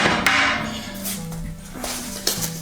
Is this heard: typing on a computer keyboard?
no